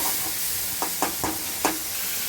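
Tomatoes sauté with salt in a pan, giving a steady hissing sizzle broken by a few short scraping stirs.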